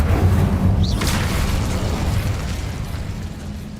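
An Incendio fire spell is cast in Hogwarts Legacy, a loud whooshing burst with a crackling flare that rolls off into a fading rumble over a few seconds.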